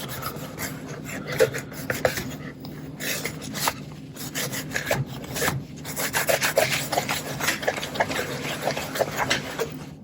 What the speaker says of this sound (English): Wipe that excess off.